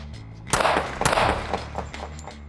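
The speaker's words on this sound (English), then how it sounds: "Load and make ready. Move. Fire." Handgun shots during a defensive shooting drill on a range, heard as a couple of sharp loud reports about half a second apart followed by fainter echoing pops and background noise.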